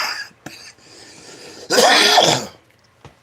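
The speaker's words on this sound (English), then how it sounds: "you're going to hear me coughing" A single harsh cough or sneeze-like burst bursts out near the middle, with quieter breathy sounds before and after.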